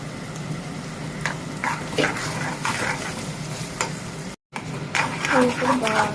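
A spoon stirs ridge gourd peel pickle around a hot pan, producing scraping and scattered sizzling with a few clinks, broken briefly by a short gap; a voice talks over part of it.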